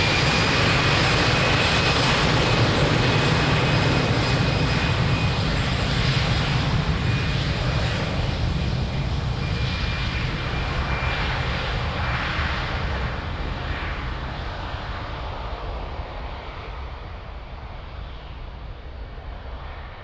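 A plane takes off from runway 02 at Lisbon Airport with a loud, steady engine roar that fills the whole stretch and slowly fades as it climbs away.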